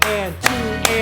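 A few sharp hand claps on the downbeat during a rhythm exercise, three crisp hits spaced evenly within a second, sounding over a sustained sung or spoken tone.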